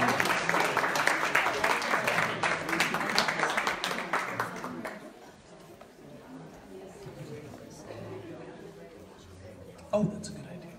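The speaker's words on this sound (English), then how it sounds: "Another round of applause for all the performers." Audience applause for poetry performers at a live poetry event, dense clapping for about five seconds that fades into quieter room noise with murmured talk and a brief sharp knock near the end.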